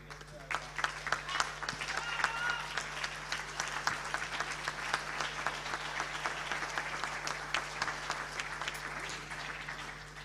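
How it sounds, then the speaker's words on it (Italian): Sustained applause fills a hall at a Veneto Paralympic sports gala, dense steady clapping from a large audience holding for about ten seconds with a low constant hum underneath. "un grande applauso nuovamente a Mirko Castellani"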